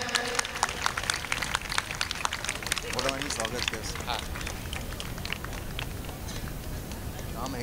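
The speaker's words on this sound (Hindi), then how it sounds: "जोरदार तालियां हो जाए।" Crowd applause at an outdoor International Yoga Day 2024 gathering as guests are welcomed: a dense, continuous patter of many hands clapping at once, steady and fairly loud for several seconds with a faint voice beneath.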